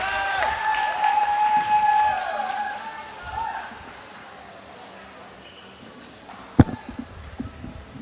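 Spectators at a women's doubles badminton final at the Malaysia Open burst into loud cheering and applause, swelling for about two seconds before settling into a lower crowd murmur with a sharp impact near the end.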